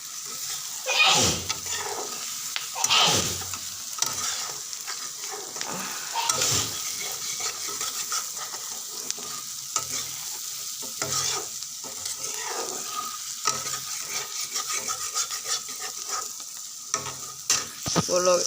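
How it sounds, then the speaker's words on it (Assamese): Onions fry and are stirred in a pan, a steady sizzle broken by repeated scraping strokes of a spatula at an uneven pace, fairly quiet and close, with no speech. "পিঁয়াজখিনি ভাজি।"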